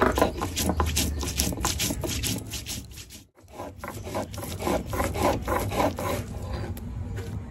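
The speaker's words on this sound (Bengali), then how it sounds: "আদা কুচি করে কাটা, জিরে আর রাঁধুনি, রসুন, জিরে, রাঁধুনি, তো সব একসঙ্গে বেটে নেবো" Ginger, cumin, radhuni and garlic are ground together into a spice paste for shukto, a steady close rasping and rubbing of stone on spice with a brief pause midway.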